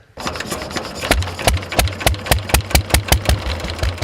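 A boat's outboard engine chugs steadily and loudly up close, with a rapid, regular knocking pulse.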